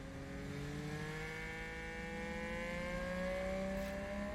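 Safety car engine in the F1 Manager 22 racing game, a steady rising whine of revs climbing gradually over several seconds, faint and continuous with no talk.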